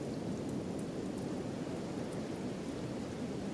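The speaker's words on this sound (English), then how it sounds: "it is raining again" Steady rain in the video game Kenshi, a soft, even wash of noise that continues unbroken, faint and with no other sounds over it.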